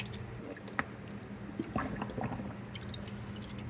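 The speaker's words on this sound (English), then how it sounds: "Rinse it a few more times and then put some more OxiClean in it" An old U.S. flag from the 1940s or 1960s is rinsed by hand in water with OxiClean, giving soft squishing, dripping and gurgling sounds of wet fabric being squeezed, quiet and close with a few sharper splashes.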